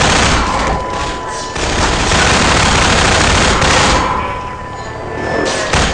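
Heavy gunfire fills a Half-Life 2 firefight: rapid automatic bursts and shots crowd together in a loud, continuous barrage with short dips before the shooting resumes.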